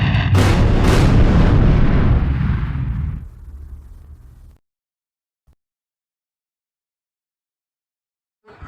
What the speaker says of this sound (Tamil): என்னோட வீடை யாரோ பாம் வச்சு பிளாஸ்ட் பண்ணிட்டாங்க